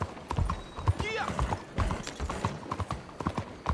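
Horse hooves clip-clop steadily in Red Dead Redemption 2, a close, rhythmic trot with a brief whinny near the start, while people talk over it.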